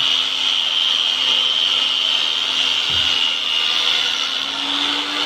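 Steady, loud abrasive scraping of 240-grit sandpaper rubbing back and forth on a Solingen kitchen knife blade, continuous with a rough, hissing texture and no talking.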